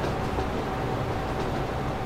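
A train in the railway simulation game Train Fever runs at speed, giving a steady, continuous rumble and rolling drone with no breaks, fairly loud and without any voices.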